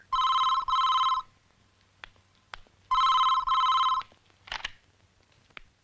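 Old landline telephone bell ringing in a Hindi Bollywood film scene, two double rings in a steady pattern, clear and fairly close, with a few faint knocks between rings and no talk.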